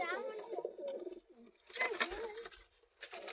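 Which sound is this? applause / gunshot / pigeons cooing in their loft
pigeons cooing in their loft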